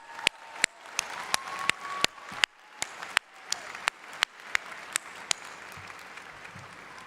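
Applause at a graduation ceremony for colleges of podiatric and osteopathic medicine, a broad wash of crowd clapping with sharp, loud individual claps standing out in a steady rhythm, then thinning toward the end.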